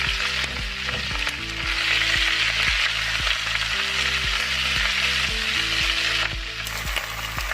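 Bok choy stir-frying in a hot pan, a loud, steady sizzle running throughout with rhythmic low clanks and scrapes of the utensil turning the greens, with no talking.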